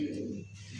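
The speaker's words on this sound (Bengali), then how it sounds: "এটা হচ্ছে আর্মি মুখী কবুতর বলা হয়" An army-coloured pigeon gives a single short, soft coo up close, a brief low throaty call that fades within a second, with no talk.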